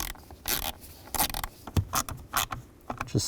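A screw is being driven and tightened on a blower motor cover in a 2009-17 Chevy Traverse, giving short irregular ratcheting clicks and scraping bursts, close up and unaccompanied by talk.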